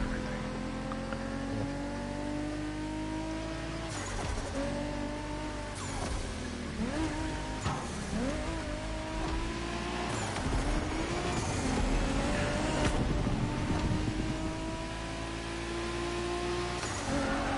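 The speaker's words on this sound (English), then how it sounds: "I will admit the sound effects in this game sound good. Like the turbos and everything." Car engine and turbo effects from The Crew Motorfest racing game: a sustained roar that rises and falls through revs and gear shifts, with whooshing turbo spool and blow-off bursts, loud and continuous throughout.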